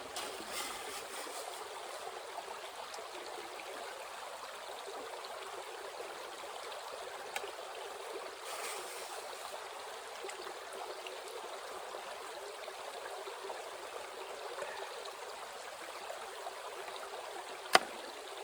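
Water runs steadily through a mini gold hog sluice outdoors, an even, continuous rushing trickle held at constant level with a single sharp knock near the end.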